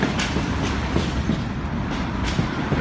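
Railway carriages roll past nearby in a steady, heavy rumble with rhythmic clickety-clack of wheels over rail joints, loud and continuous with no talking.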